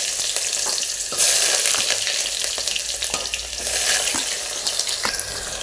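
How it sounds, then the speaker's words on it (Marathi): Onion fries in two spoons of oil inside a pressure cooker on a gas stove, giving a continuous crackling sizzle with occasional sharp pops and stirring scrapes, close and fairly loud. "आता यामध्ये आपण पहिल्यांदा कांदा घालून घेऊया"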